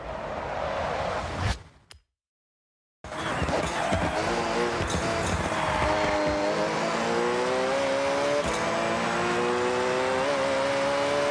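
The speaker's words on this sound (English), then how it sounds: "Rev!" A car engine revving in the racing video game Forza Horizon, loud and sustained with rising pitch after a brief moment of silence, with a voice briefly over the roar.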